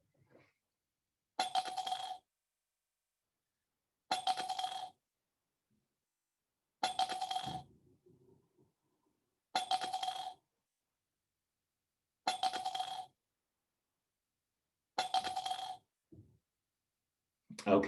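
Coins dropping one at a time into a mug, six bright metallic clinks spaced evenly several seconds apart in near silence, with faint movement sounds between.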